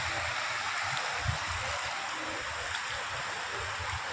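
A steady, continuous rush of water flowing over pebbles and stones in a village stream on a cool morning, moderately close with low gurgling and no speech.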